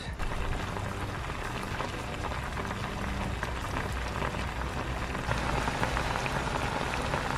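A covered pot of dinner simmering on the stove, a steady dense bubbling and crackling hiss that holds evenly throughout without talk.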